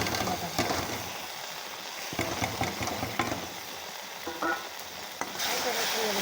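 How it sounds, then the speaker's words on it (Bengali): Mustard and poppy seed paste fries in a pan with a dense, steady sizzle close up, broken by scattered sharp clicks and scrapes of stirring. "এবার দিয়ে দিচ্ছি সরষে আর পোস্তটা বাটা।"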